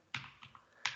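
A few keystrokes on a computer keyboard during a software testing walkthrough, sparse and irregular taps, close but quiet, with no talking.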